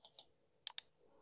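A computer mouse gives a few quick, crisp clicks close by, two short pairs spaced apart in a quiet room, with no talking.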